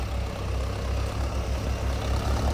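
Two four-wheel-drive tractors, a New Holland 3630 TX and a Mahindra, running together in medium second gear, their diesel engines giving a steady, heavy low rumble that stays close and constant throughout.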